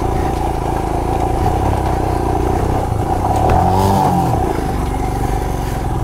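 An off-road motorcycle on a Shimla mountain trail revs hard and steadily, its rough engine drone loud and close, with a brief rising surge as the rear tyre slips and skids partway through.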